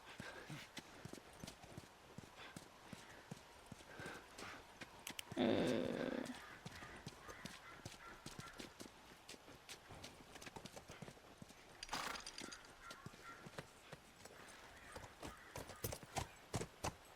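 Rhythmic horse hoofbeats from the video game The Last of Us clop steadily on hard ground, with a brief loud burst of noise midway and another shorter one later; faint murmurs sit in the background.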